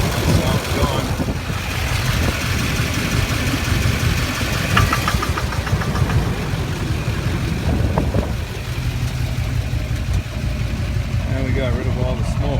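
A 2006 GMC Duramax LBZ diesel idles with one injector unplugged, giving a steady, close, rough knocking rumble that runs throughout; someone talks over it.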